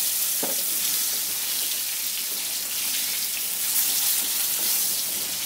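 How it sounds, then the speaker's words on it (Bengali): Potatoes frying in hot oil for a prawn and kohlrabi curry give a steady, close, dense sizzle that holds evenly throughout, with a faint clink near the start and no voices. "এই তেলটার মধ্যেই এখন আমি আলুটা ভেজে নেব"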